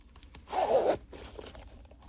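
A zipper on a round Dior makeup pouch is pulled open in one quick, close rasping run lasting about half a second, with faint handling noise around it.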